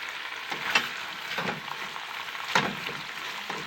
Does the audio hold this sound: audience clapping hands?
no